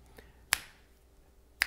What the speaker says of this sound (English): you can hear the direction of her snaps